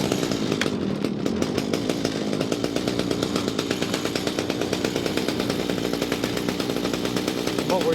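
A small Echo string trimmer engine runs steadily at a fast, buzzing idle while the idle setting is adjusted. It is close and continuous for the whole stretch, with a rapid pulsing rhythm.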